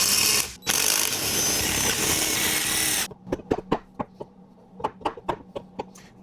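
A power tool whirs loudly for about three seconds while removing bolts from a 1975 Triumph TR6 transmission, then a hand ratchet clicks in a string of sharp, close, evenly spaced strokes.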